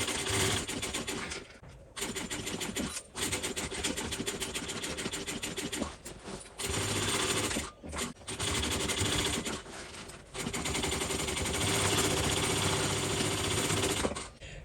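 A sewing machine stitches the side seam of a Coupeville tote bag in a loud, rapid, continuous mechanical chatter, stopping briefly several times before running on.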